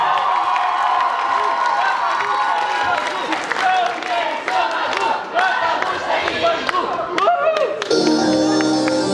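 A university student comedy festival crowd at Bashkir State University erupts in loud applause, cheers and shouted whoops for a team taking the stage, a roaring mass of voices and clapping, with music kicking in at the end.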